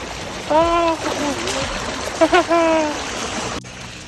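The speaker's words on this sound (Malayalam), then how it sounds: "ഇപ്പുറം വെള്ളം ഒച്ച കേൾക്കുന്നുണ്ട്" Water rushes steadily near a waterfall at Vattavada, a constant broad roar with splashing close by while voices talk over it.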